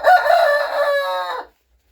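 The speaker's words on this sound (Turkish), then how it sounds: "sevdiğin için bak horoz konuşuyor senin. Kuk kuk yapıyor" A rooster crows once, loud and close, a single drawn-out call lasting about a second and a half before cutting to silence.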